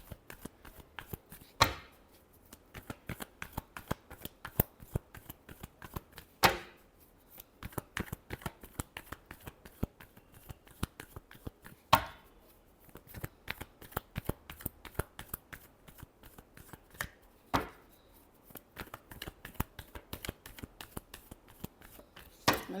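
A deck of tarot cards is shuffled over and over, giving quick crisp riffles and soft slaps with a few louder bursts, close and alone throughout.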